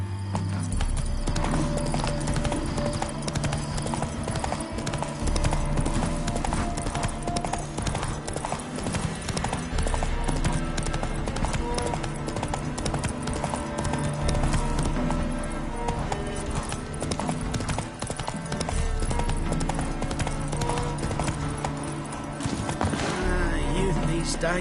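Geralt's horse Roach gallops in The Witcher 3, a video game. Rapid, rhythmic hoofbeats drum continuously and close over a musical score, with a brief whinny and speech-like vocal snippets along the way.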